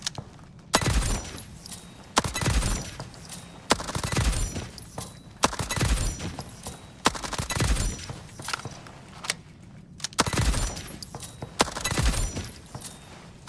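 Bursts of gunfire from weapons in the sci-fi shooter ALARA Prime, several sharp volleys spaced a second or two apart, each a cluster of rapid cracks with metallic ringing, loud and close, no voices.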